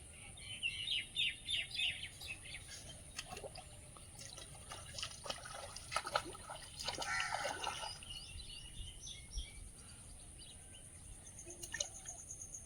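Small birds chirping and tweeting near a village pond, faint and somewhat distant, with scattered calls over a soft background hiss and occasional water sounds.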